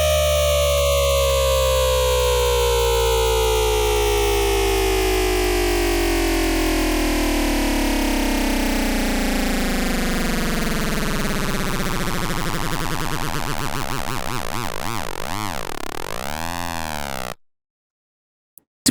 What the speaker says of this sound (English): it's a high pitch kind of bass sound, but you can use it as something totally different than a bass